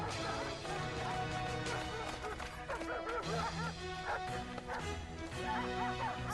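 Hunting dogs in an animated series bark and yip in quick, overlapping bursts while chasing a fox, loud and busy over a continuous musical score.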